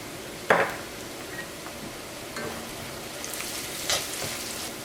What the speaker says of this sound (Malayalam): ഇപ്പോൾ മഞ്ഞൾപ്പൊടി ഇതിനകത്തോടെ നന്നായിട്ട് മുരിഞ്ഞിട്ടുണ്ട്